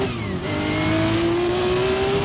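A race car engine heard onboard during Le Mans qualifying howls close and loud, its pitch climbing steadily as the car accelerates, with a faint tyre squeal beneath.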